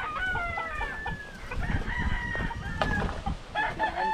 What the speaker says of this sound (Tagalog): Ganda ng manok ah.